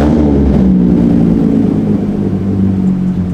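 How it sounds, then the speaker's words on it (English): A bagged Hyundai Genesis Coupe with a straight-pipe exhaust, running loud and close, its deep raspy engine drone rising briefly in pitch with a steady low rumble throughout and no talking. "I went and got it straight pipe, so it's pretty loud"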